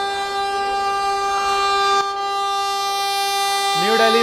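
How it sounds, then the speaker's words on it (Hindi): A New Delhi–Varanasi Vande Bharat Express passing at Tundla, giving a loud, steady rail rumble and a sustained tonal whine with a rising horn-like tone near the end; a voice can be heard faintly beneath it. "पीछे से वंदे भारत आ रही है और आ चुकी है"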